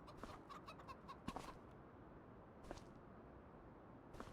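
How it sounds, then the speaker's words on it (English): Chickens in a farming video game give a few faint, scattered clucks against a quiet background, with a couple of slightly louder calls near the middle and end. "And we got chickens."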